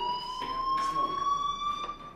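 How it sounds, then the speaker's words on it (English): A school fire alarm rings in the video game Life Is Strange, a steady, sustained electronic tone with a faint pulsing edge, carrying on unbroken under light background sound. "Hey, do you hear that fire alarm? That means you should be outside."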